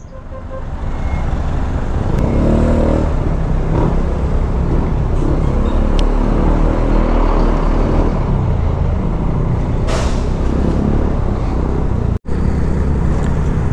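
Busy road traffic in Lipa City, Philippines, with cars and motorcycles: a loud, continuous engine drone and rumble of passing vehicles, close by, with a brief dropout near the end and no clear talk.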